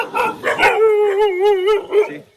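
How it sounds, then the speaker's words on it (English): A dog gives a few quick barks close by, then slides into a long wavering howl that ends with a short final yelp, loud and alone with no talk. "Don't mind the dog."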